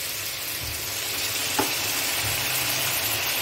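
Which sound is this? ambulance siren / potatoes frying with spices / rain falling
potatoes frying with spices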